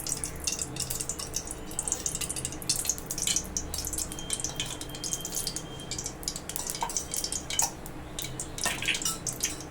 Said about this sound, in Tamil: இப்போ வந்து நம்ம எண்ணெயை ஊற்றிக்கலாம்.